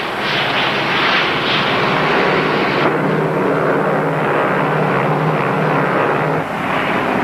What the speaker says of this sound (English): The plane has turned back.